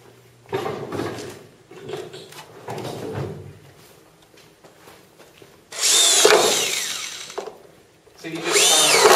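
A power drill drives screws into a pine waler board during a studio wall build, with two loud whirring bursts near the end after quieter knocks and handling sounds.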